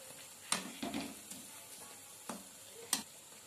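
Soft, continuous sizzling of bread frying in oil over low heat for bread halwa, with a few sharp pops and clicks of a utensil stirring in the pan.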